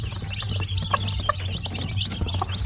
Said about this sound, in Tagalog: So yan po mga sisiw niya, sobrang dami.